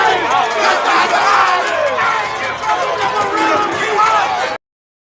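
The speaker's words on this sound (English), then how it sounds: "Yeah, that crowd was lit that night, man." A basketball tournament crowd roars and cheers at a game shown in a highlight video, with loud, continuous, excited yelling and voices mixed in before the sound cuts off abruptly.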